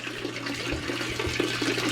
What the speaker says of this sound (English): There's going to be a little water that comes out into the top bowl